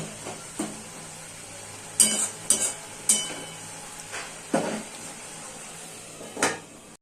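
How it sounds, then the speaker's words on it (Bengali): A spoon stirs koraishaak greens with salt in a pan: a string of sharp clanks and scrapes at an uneven pace over a faint background sizzle, close by. "এটাকে আমি আবারও ভালো করে মিশিয়ে একটু নেড়ে ছেড়ে একদম শুকনো হতে দেবো।"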